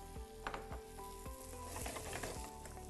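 Mushrooms sizzling in a hot pan with capsicum, a steady, close frying hiss punctuated by repeated scraping stir strokes from a spatula.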